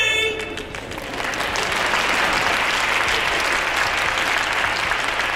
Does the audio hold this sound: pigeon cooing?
no